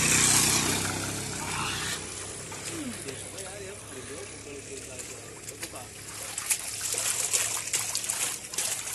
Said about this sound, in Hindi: ये मुंह धो रहे हो कि शरीर धो रहे हो?